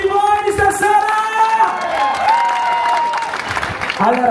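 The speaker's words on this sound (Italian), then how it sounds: "questo è un grandissimo applauso a tutti voi stasera" A concert audience in Salerno, Italy applauds after a live performance, with clapping and crowd noise that rises and falls around sustained musical tones and a voice.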